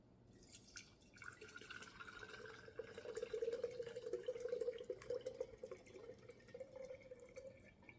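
Homemade fire cider, steeped for about six weeks, is strained, its liquid dripping and trickling steadily into a container; faint, close and continuous, with a gentle splashing stream rising in the middle.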